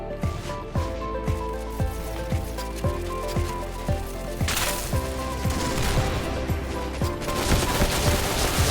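Rapid rifle gunfire in the online shooter Point Blank comes as quick, evenly spaced bursts of sharp shots, loud and close, continuing through the whole stretch with denser firing near the end.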